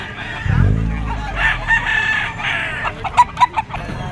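A Golden Boy sweater gamefowl bull stag, yellow-legged, gives one long close crow, followed by a few sharp clucks and calls near the end.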